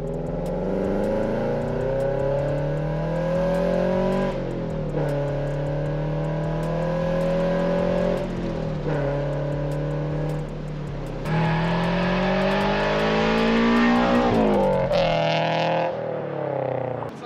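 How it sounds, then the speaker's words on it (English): A Subaru BRZ's exhaust revs hard through rising and falling engine pitches, loud and close, with sharp throttle blips near the end. "The exhaust is what makes it sound fast."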